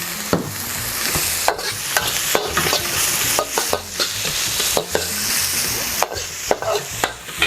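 Onions stir-fried in a pan for Filipino sweet spaghetti, a steady close sizzle broken by repeated scraping strokes of a spatula, with no voices.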